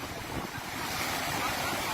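Floodwater rushing over an overflowing dam in Nashik after heavy rain, a steady loud broadband roar of churning water with no pauses.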